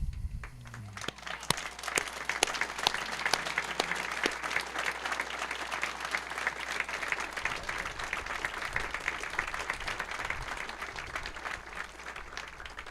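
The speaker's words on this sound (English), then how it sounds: "Graduates, would you stand for a moment and applaud your parents?" Graduates at a Santa Fe Prep high school commencement ceremony applaud their parents, a steady, sustained crowd of clapping filling the hall, with faint voices mixed underneath.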